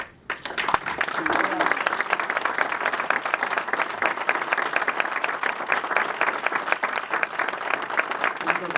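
Sustained applause from the audience at a doctoral thesis defense in psychology, a dense, steady clatter of many hands that continues at even loudness throughout after a brief quiet start.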